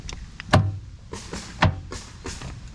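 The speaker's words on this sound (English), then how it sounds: "It's basically just a door lock system." Remote door lock system on a 1999 Pontiac Grand Am with shaved door handles: a few sharp actuator clunks and thumps, fairly close, spaced out with softer mechanical clicks between them and no talking.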